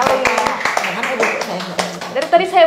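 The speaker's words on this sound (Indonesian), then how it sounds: "Tepuk tangan dulu dong untuk prestasinya Raina" A few sharp hand claps of applause for a girl's achievement ring out at the start, with someone talking over and after them.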